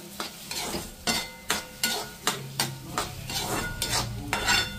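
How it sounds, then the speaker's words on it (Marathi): Rice for kheer dry-roasting in a pan, stirred with a spatula in a steady rhythm of close, distinct scraping strokes, each with a light rattle of grains, and no speech. "आता एवढं तांदूळ भाजून घेते मी"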